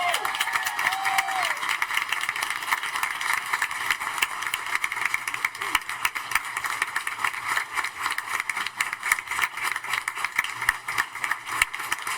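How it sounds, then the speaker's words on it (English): Applause and cheering for a state champion high school color guard at a school board meeting, a dense steady wash of clapping and crowd noise filling the room for the whole stretch. "Let's give them a round of applause."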